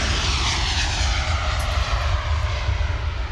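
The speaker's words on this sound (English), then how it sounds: "look at that plane take off." An airplane takes off near Schiphol Airport, its engine roar loud, close and continuous, a broad steady rumble filling the whole stretch with no voices over it.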